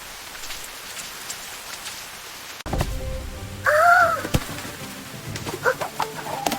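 Rain falling in a 3D children's cartoon, a steady hiss of raindrops on surfaces that grows louder after a cut, with a short bird-like squawk briefly rising over it.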